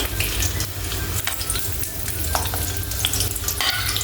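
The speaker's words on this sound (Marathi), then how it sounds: "तेल गरम झालेलं आहे आता आपल्याला ह्याच्यामध्ये कढीपत्ता" Curry leaves sizzling in hot oil for a traditional val-bean birde curry, a loud, dense, continuous frying hiss close up, with stirring scrapes running through it and no talking.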